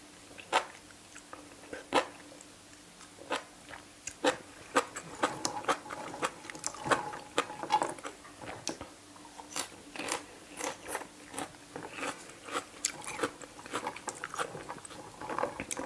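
Grilled squid balls and enoki mushrooms coated in Korean gochujang being chewed up close, with repeated crisp bites and wet mastication sounds in an irregular rhythm, alone without talk.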